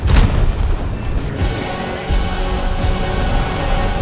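Maverick missiles and glide bombs striking targets from an F-15E in War Thunder: a dense, continuous roar of heavy booms and rumbling blasts, loud and low, layered under steady jet and engine noise.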